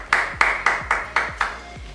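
Six sharp hand claps at an even, moderate pace, each a crisp close slap with a short ringing tail, no voices over them.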